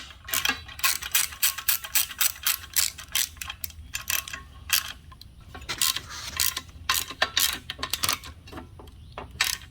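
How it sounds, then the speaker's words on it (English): A 7/16 wrench ratchets on a 1966 Ford Bronco steering column during restoration, giving rapid runs of close, crisp clicking in bursts with brief pauses between strokes. "Use a 7/16 wrench."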